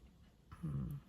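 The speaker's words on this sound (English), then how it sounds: "now here we are with a cranky ass dog" A cranky, unwell dog with colitis gives a low, close whimpering groan over quiet breathing, soft and brief, rising in the second half.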